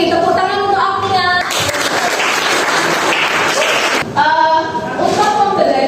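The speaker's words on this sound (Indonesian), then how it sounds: "Tepuk tangan untuk Agnia." Students in a biology classroom break into a burst of applause for a classmate, loud, dense clapping lasting a few seconds, with a teacher's speech before and after it.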